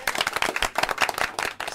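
A group of children in an audience clap their hands together in a quick, continuous burst of applause, close and fairly loud, with no talk over it.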